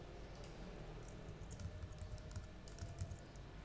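A computer keyboard being typed on during UI design work: a quiet, fairly rapid run of light clicking keystrokes over a low background hum, with no talking.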